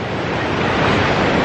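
A rising, flooded river during Tropical Storm Vinta in Cagayan de Oro, Philippines. It gives a loud, continuous roaring rush of water that fills the whole clip, blended with wind buffeting the microphone and no voices.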